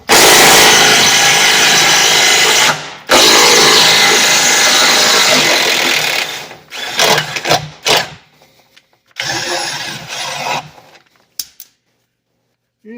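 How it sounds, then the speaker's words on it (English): Rusty bolts on a Geo Metro rear sway bar mount bracket being forced until they snap, loud grinding and ratcheting metal-on-metal strain running nearly continuously, then breaking into choppy bursts and pauses near the end. "I'm going to see if I can't just go ahead and break these bolts off"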